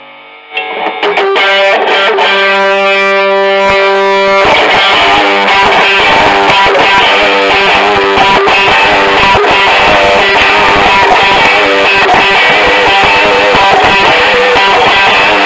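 Electric guitar played through a combo amplifier with distortion, starting as a sustained chord and then breaking into loud, continuous driven riffing that stays up close for the whole stretch.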